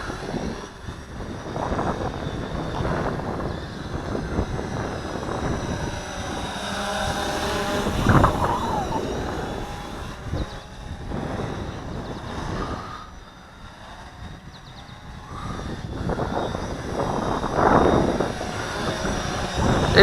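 Steady whirring buzz from an UPAIR ONE drone flying a few meters up, rising and falling in pitch as it maneuvers, moderately loud with outdoor background noise throughout.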